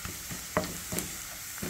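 Chopped onions and cumin seeds frying in a pan for khichdi, a steady close sizzle with a few soft stirring scrapes and taps, and no talking.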